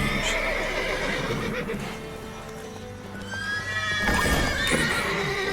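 Horses neighing and whinnying with hooves clip-clopping in a stable in The Witcher 3 video game, several close whinnies rising and falling over steady shuffling hoofbeats.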